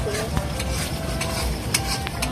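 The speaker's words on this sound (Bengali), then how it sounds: "এই যে মাংসর এখন কষানো চলছে।" Meat curry is stirred and browned in a pot at a feast, with a continuous sizzle and frying hiss broken by scraping stirs and an occasional clink of utensil on metal.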